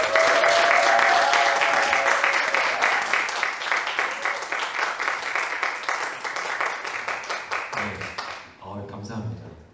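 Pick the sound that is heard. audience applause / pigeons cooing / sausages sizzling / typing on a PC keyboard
audience applause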